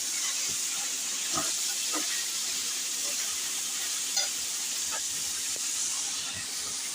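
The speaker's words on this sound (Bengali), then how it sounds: "এখানে তো বিন গাজর ভাজা হচ্ছে" Beans and carrots frying in a pan, a steady close hiss of steam and sizzle with faint scattered stirring taps, running continuously without voices.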